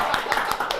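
A few claps from a classroom audience in a chemistry lesson, several sharp broadband hits spaced unevenly over under a second, close and moderately loud.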